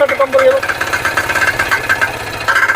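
A 7 hp Kama power tiller engine runs steadily at close range with a dense, throbbing mechanical rumble, while someone talks over it throughout.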